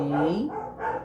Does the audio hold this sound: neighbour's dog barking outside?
yes